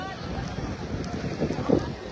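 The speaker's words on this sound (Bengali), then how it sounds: "বৃষ্টির সাথে প্রচন্ড বাতাস, আর সাগর তো চূড়ান্ত লেভেলের উত্তাল।" Strong wind and rain sweep across a rough sea shore at Cox's Bazar. The wind roars and buffets the microphone in a steady, loud rush, with the surf churning underneath.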